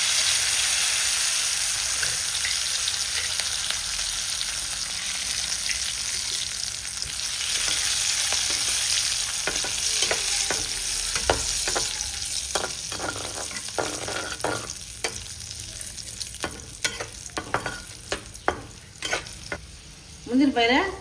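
Cashews and moong dal frying in ghee for a village-style pongal, with a steady close sizzle that grows busier as a spoon scrapes and stirs through the pan in repeated sharp strokes.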